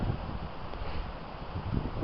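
Cold, bitter wind buffeting a microphone outdoors near a river, a low rumbling rush with gusty swells over a couple of seconds, close and continuous, no talk.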